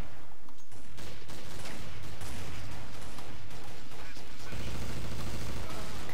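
Submachine gun fire in the Counter-Strike video game: dense, continuous bursts of shots and clattering impacts, loud and busy throughout with no pauses.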